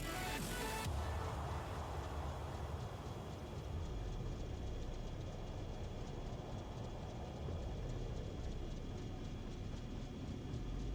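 A train rolls past in the factory-building game Factorio, a steady, dense rumble with a rail-like clatter that holds at a constant level for the whole stretch, with no talking over it.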